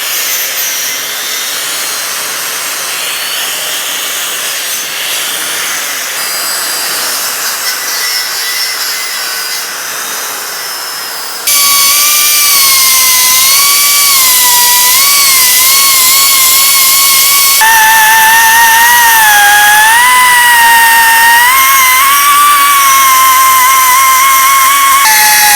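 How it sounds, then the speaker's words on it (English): An angle grinder works over a cracked cast steel part from a restored dragline crane, preparing it for welding; a loud, steady high-pitched whine and rasp runs throughout, jumping harsher and brighter partway through with wavering pitch as the disc bites. "I'm going to start deburring or grinding in everywhere I need to weld"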